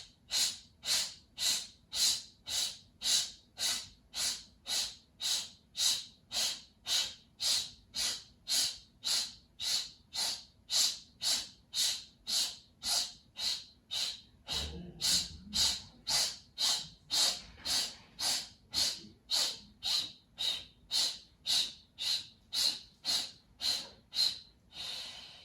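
Forceful, rhythmic breaths pushed out through the mouth by snapping the belly in during a hot yoga breathing exercise, about fifty sharp even pulses in a steady fast beat, close and loud, with a brief low rumble midway.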